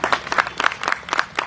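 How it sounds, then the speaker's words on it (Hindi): An audience at a business meeting in Surat bursts into brisk, uneven clapping, a short close burst of many hands applauding together with no voices over it. "एक जोरदार ताली।"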